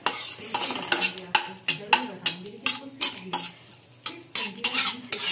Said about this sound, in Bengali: কারি পাতা ভাজা হচ্ছে।